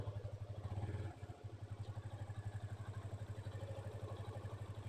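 A motor engine chugging in a steady rapid rhythm after starting, a low close throb that briefly catches near the start and then runs on evenly, with no talk over it.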